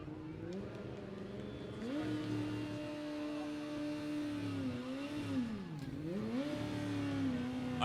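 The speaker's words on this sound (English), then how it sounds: "Here comes the Formula One car." A Formula One style parade float car revs its engine repeatedly at a university homecoming parade, a loud droning tone that rises and dips in pitch several times, nearby and sustained.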